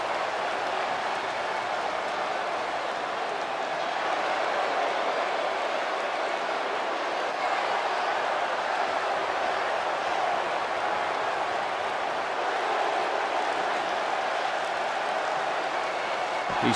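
A wrestling arena crowd at a Great Khali vs. Giant Zanjeer match roars and applauds in a dense, steady wash of cheering and clapping that holds at an even, loud level throughout.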